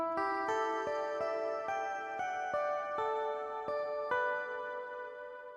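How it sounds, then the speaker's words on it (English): A lap steel guitar pluck synth from Spitfire Audio LABS plays a slow melody, each note plucked cleanly and left to ring into the next, bright, clear and alone. "one of them is this beautiful pluck guitar, a lap steel guitar"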